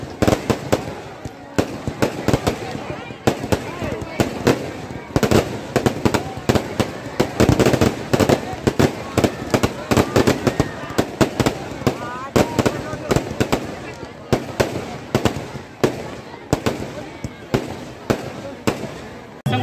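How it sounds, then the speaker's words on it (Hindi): Dense crackling fireworks and firecrackers burst continuously at a Ravan Dahan Vijayadashami festival in Parsaguda, a rapid, loud barrage of pops and bangs with crowd voices audible underneath. "काफी सुंदर तरीका से यहाँ आतिशबाजी चलती है।"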